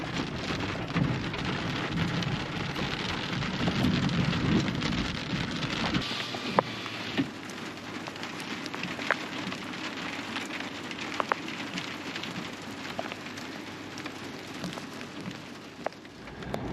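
Rain falling on volcanic cinder hills, a dense continuous patter of drops with occasional sharper taps and a low rumble underneath, steady and fairly loud throughout with no voices.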